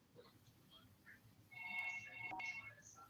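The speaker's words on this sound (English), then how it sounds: "That's just our land phone ringing." Landline telephone ringing in a home, faint electronic rings heard in the background while a person talks nearby.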